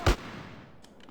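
A single loud AK gunshot in GTA San Andreas, sharp and close, followed by a fading echo and faint distant shots.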